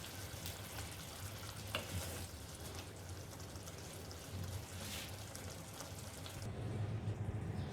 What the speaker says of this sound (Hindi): अब इसको मैं ढक के 2 to 3 मिनट्स में स्लो गैस पे इसको पकाऊंगी